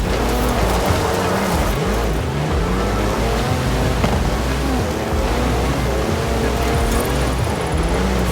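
A 340-horsepower car in Forza Horizon drives steadily, its engine a continuous loud drone mixed with road and wind rush, with no pause for the full stretch.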